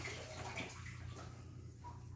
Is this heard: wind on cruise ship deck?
no